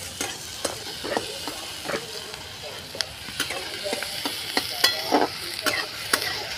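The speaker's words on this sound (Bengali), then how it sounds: "অল্প আছে পেঁয়াজটা ভেজে নিচ্ছি।" Onions sizzle steadily in a hot pan of oil, with repeated sharp scrapes and clicks of a utensil stirring them; continuous close frying hiss with no voices.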